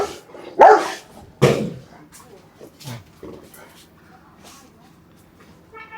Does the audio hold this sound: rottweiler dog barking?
yes